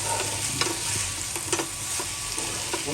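Chicken lollipop pieces being dry-roasted with a little sugar are stirred in a hot pan, giving a steady sizzle with scraping spoon strokes against the metal and no talking.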